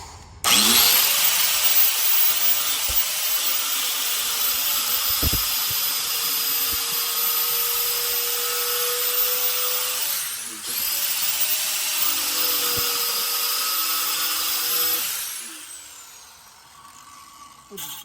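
A cutoff wheel grinds through a metal factory strap while front sway bar clamps are installed, giving a loud, sustained high-pitched screaming whine that dips briefly midway, resumes, then winds down toward the end.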